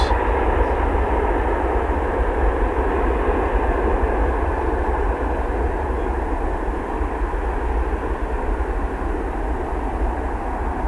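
Aircraft take off at DFW Airport at night, producing a continuous loud jet roar with heavy low rumble that stays steady throughout, with no distinct breaks.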